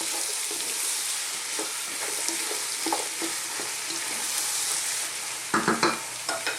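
Carrots fry in a bubbling vegetable curry sauce for black-eyed peas curry, with a constant close sizzle and a few sharp stirring scrapes and knocks near the end.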